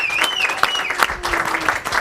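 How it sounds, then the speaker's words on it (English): An audience claps in a short, lively round of applause with some scattered voices underneath. "Can we give them a round of applause?"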